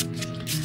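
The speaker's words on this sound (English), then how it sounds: "So we have the sanding blocks ready to go" Close, steady rubbing and scraping of a sanding block over a model ship hull, in short continuous strokes.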